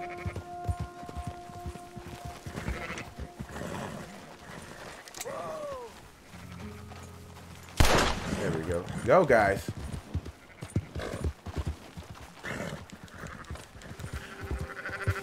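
Sheep bleat while being herded in Red Dead Redemption 2, scattered cries among hoof clatter and game ambience, with someone talking over much of it and a loud burst midway.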